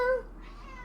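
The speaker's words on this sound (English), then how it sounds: "Can you guys hear my cat?" A pet cat named Genie gives a short meow, close and clear at first, then trails off into a faint hum. No one speaks.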